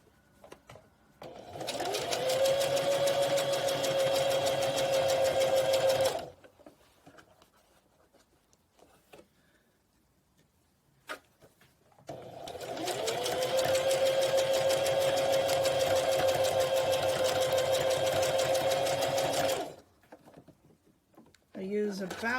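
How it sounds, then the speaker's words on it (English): Sewing machine stitching a fabric pumpkin seam in two steady, continuous runs of several seconds each, a close whirring hum with a quiet pause between. "And then just sew like normal all along"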